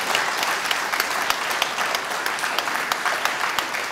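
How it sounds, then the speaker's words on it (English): An audience at a live barbering event at a college gives a burst of steady applause, dense clapping filling the room with no voices. "Give these guys a round of applause"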